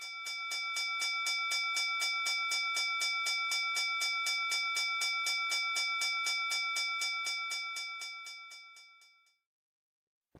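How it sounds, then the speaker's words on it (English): A stock exchange closing bell rings in a rapid, steady run of about forty loud metallic strikes, each with a bright sustained tone, fading out near the end and then falling silent. "I was just going to ask if we were at the closing bell yet or not"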